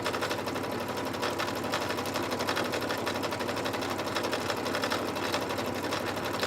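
A sewing machine back stitches over a basting stitch on a jacket, a rapid even mechanical rattle running close and continuous without pause.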